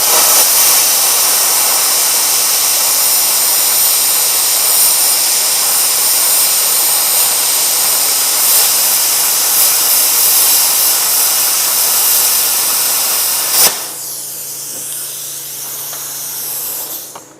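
A Bestarc BTC500DP plasma cutter at 35 amps and 40 PSI slicing 1/4 inch steel plate, a loud continuous hissing roar that holds steady, then cuts off abruptly into a quieter hum and faint hiss.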